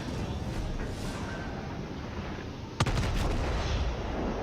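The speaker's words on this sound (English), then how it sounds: "So I just fire 1 salvo to get my ranging" The battleship Amagi fires a single gun salvo in World of Warships, a sudden heavy boom that rises out of a constant loud roar of engine and sea noise partway through.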